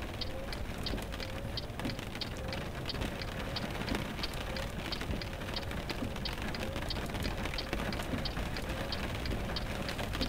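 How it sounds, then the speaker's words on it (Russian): Rain in the truck driving game Euro Truck Simulator 2 patters steadily on the cab with a dense crackle of drops and a low rumbling undertone, even and moderately loud throughout. "И опять у нас с вами в начале рейса дождь идет."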